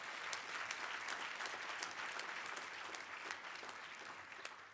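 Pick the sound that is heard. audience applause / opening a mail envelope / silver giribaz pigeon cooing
audience applause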